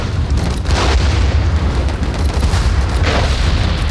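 Artillery shells burst in a war video game set in a historic battle, a heavy, continuous low rumble with deep booms rolling over one another, loud and close with no pause.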